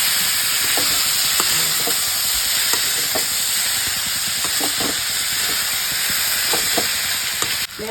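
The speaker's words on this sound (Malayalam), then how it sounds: "എണ്ണയിൽ വാറ്റിയെടുത്തതിന് ശേഷം നമ്മൾ ഈ മത്തങ്ങ വീട്ടിടും നല്ലോണം ഇളക്കിക്കൊടുക്കും" Pumpkin pieces stir-fried in hot coconut oil give off a steady, close sizzle and hiss, broken by repeated short scrapes and knocks of a stirring spoon against the pan.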